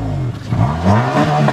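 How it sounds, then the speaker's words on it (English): A 2013 Honda Accord Sport's four-cylinder engine revs hard under acceleration near 7,000 RPM, a loud steady drone with rising harmonic pitch sweeps heard from inside the car. "this thing really does rev, and of course, and you can hear it there, of course Hondas love to rev"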